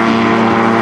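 A gyrocopter powered by a Rotax 582 water-cooled two-stroke engine drones steadily and loudly with a propeller buzz, heard close and continuous without talk.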